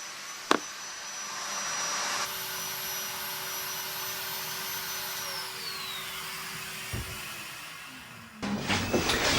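A machine cutting mortises in the sides of a cabinet carcass gives a steady, high-pitched motor whine that runs without a break for several seconds. The pitch dips as it spins down near the end, and a clunk follows.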